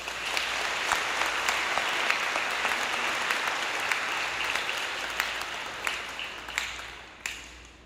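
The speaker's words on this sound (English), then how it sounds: "Let's give them a round of applause" A graduation ceremony audience applauds board members, a sustained round of many hands clapping at moderate distance that thins out and tapers toward the end with a few last claps.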